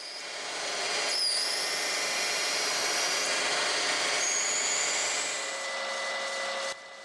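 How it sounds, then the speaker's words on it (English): A metal lathe bores out the central cavity of a machined part with a steady, loud, broadband cutting hiss and whine that runs unbroken for several seconds, then drops abruptly at the end. "The part was transferred to the lathe to bore out the central cavity."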